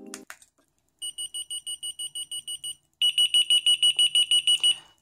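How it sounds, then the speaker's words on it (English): A high key finder alarm pulses rapidly in two bursts with its speaker covered, the first slightly softer and muffled, the second louder and sharper, with a brief rustle around it. "And now I'm going to cover up the speaker and show you how loud that is."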